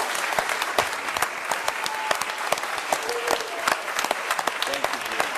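A crowd in city council chambers claps for several seconds, dense and fairly loud, a steady patter of many hands with a few sharper individual claps, no voices on top.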